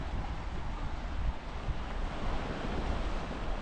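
Sea waves wash steadily at Katsarka Beach in Ayia Napa, Cyprus, a constant broadband surf roar with wind buffeting the microphone and no voices.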